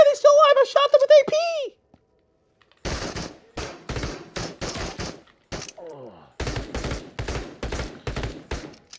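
Bursts of AP rounds fired in the game Into the Radius: rapid, loud clustered shots in several volleys, with a shouting voice at the start before the firing.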